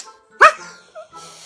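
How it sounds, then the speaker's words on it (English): A cat gives a single sharp, loud bark-like yelp that sounds just like a small dog, followed by a couple of softer short squeaky calls, close by in a quiet room. "Has anyone seen this cat barking like a dog?"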